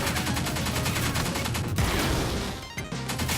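Grenades and gunfire in the twin-stick shooter Pineapple Smash Crew, a dense, loud barrage of blasts and rapid shots that rattles on with no let-up, with a brief dip near the end before resuming.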